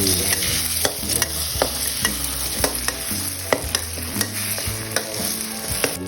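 Noodles stir-fried in a little oil with egg, scraped and tossed in a pan in a steady rhythm of spatula clatters over a continuous close sizzle, with no talk.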